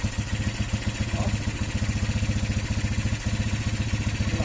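A Motorstar classic motorcycle under restoration runs close by, its engine throbbing in a fast, even pulse with small swells of revving and no break through the whole stretch.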